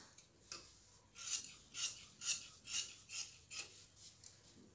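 Scissors cut through silk saree cloth in a quiet room, making a series of about eight crisp, rhythmic snipping rasps close by.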